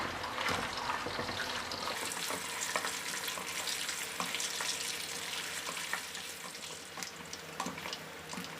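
Pork scraps fry in hot oil, a constant close crackling sizzle with scattered pops and occasional stirring clatter throughout.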